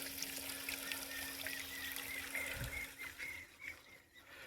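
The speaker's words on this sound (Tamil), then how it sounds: "இப்போ பார்த்திங்கன்னா மோட்ரு ஓடிட்டுருக்குது" A farm well pump motor runs with a steady low hum beside the trickling, splashing flow of water from a well and borewell on a farm in Erode, Tamil Nadu, faint and outdoors with occasional bird chirps.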